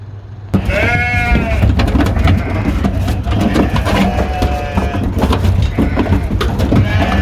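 Sheep bleating on a farm in Norway, several animals calling repeatedly and close by, wavering cries overlapping with rustling and shuffling in the pen.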